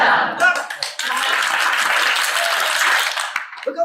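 Schoolchildren clap together in a lively burst that runs for a few seconds and then breaks off, with scattered voices and movement at the start and end.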